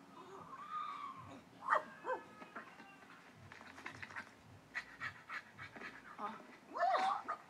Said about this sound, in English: Dang, you got a dog.